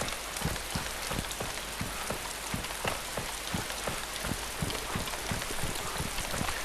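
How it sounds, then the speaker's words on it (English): Steady rain falls in the survival game DayZ as a dense, even hiss, with regular low thumps beating through it at a steady rhythm and no speech over it. "See the visibility's coming in a bit because of the rain."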